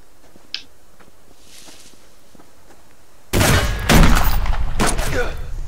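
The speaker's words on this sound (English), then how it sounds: "Where are they shooting from?" Gunfire in the survival game Subsistence: a quiet ambient stretch with a single faint click, then sudden loud, close bursts of rapid shots that keep going to the end.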